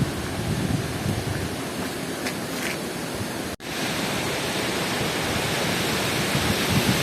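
Steady loud rush of river water flowing at Chacheri dam in Bilaspur, a continuous broad roar with one brief dropout midway and no voices.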